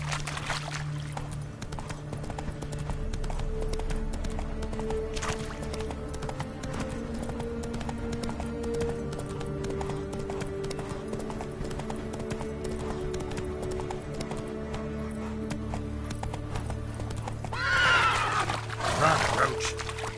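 A horse gallops with rhythmic clip-clop hoofbeats in the video game Witcher 3, over game ambience, and whinnies loudly near the end; a voice speaks briefly.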